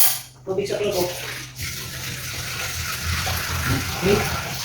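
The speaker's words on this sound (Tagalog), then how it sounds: "lalagay tayo ng tubig sa tingko" Water poured into a cooking pot of ground pork, a steady close splashing gush running several seconds, with someone talking faintly over part of it.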